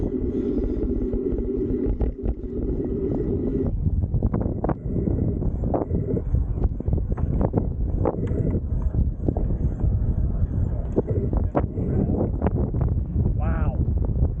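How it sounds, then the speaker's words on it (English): Strong wind buffets the microphone outdoors at Pier Village, a loud continuous rumbling roar with gusty thumps throughout, close and unbroken. "Wind is strong."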